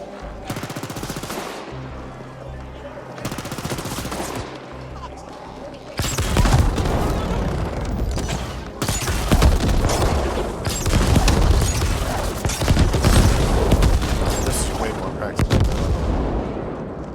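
Gunfire in the video game Ascent from a slow-firing weapon that reloads after every shot, heavy booming shots over dense game noise and music, with a voice talking underneath.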